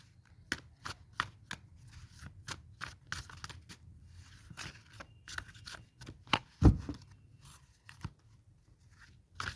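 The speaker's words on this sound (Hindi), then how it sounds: "छह कार्ड निकालेंगे हम।" Tarot cards are shuffled and drawn in a quiet room, with a quick series of crisp riffling snaps and flicks, then a louder rustle and thump, close and without talking.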